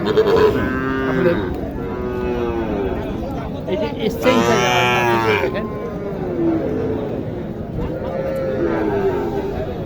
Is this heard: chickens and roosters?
no